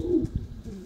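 Homing pigeons in a breeding aviary give a few low, soft coos close by, with a short throaty rhythm over quiet background.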